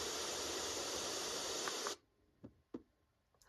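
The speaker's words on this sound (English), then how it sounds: "Pink noise." A baby sound machine plays a steady, broad pink-noise hiss for about two seconds, then switches off, leaving faint clicks and handling sounds.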